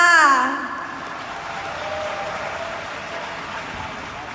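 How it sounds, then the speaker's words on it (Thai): A seminar audience on a stage event in Thailand breaks into applause after a loud voice ends its call, the clapping settling into a moderate, steady patter that continues to the end. "ขอเสียงปรบมือดังๆเลยค่ะ"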